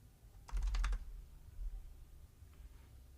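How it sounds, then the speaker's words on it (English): A short burst of typing on a computer keyboard, a quick run of soft clicks lasting about half a second, then near silence with a faint tap or two later. "oops, got to type it right."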